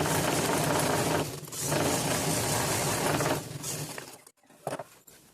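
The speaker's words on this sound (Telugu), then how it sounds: "డబల్ స్టిచ్ వేసేసుకోండి చివరిన సమానంగా కుట్టేసుకోండి సరిపోతుంది" A sewing machine runs close up while stitching a saree petticoat, a loud continuous whir that pauses briefly, resumes, then stops near the end with a few light clicks.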